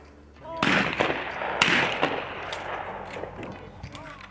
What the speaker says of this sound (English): Trap is a shotgun shooting-oriented sport